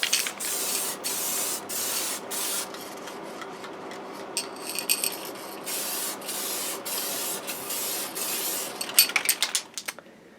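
Lacquer sprayed onto a headless guitar body in short hissing bursts, close and fairly loud, repeating with brief gaps and some light handling clatter toward the end.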